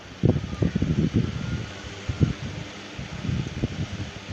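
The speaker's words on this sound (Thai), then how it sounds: "อันนี้ก็เป็นพัดลมของเราครับ" A small USB-powered electric fan, part of a budget solar panel setup, blows hard and close, giving a breathy whoosh with uneven gusty buffeting against the microphone.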